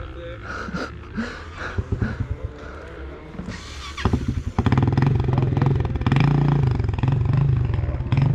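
KTM LC2 125 motorcycle after a rebuild, its two-stroke engine revving up from about the midpoint into a loud sustained run, with scattered clatter and people talking nearby before it.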